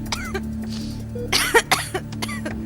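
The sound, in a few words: coughing in audio story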